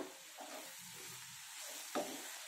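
Fenugreek leaf curry fries in a pan with a steady, soft sizzle, and a single brief clatter sounds close by near the end.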